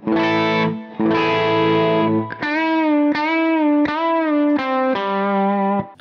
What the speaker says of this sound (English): I've loaded up an AC30 preset. So here's the raw tone.